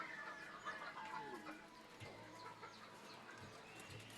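Chickens cluck softly and steadily as they are fed alongside pigeons, with a few low clucks standing out over a faint, busy farmyard background.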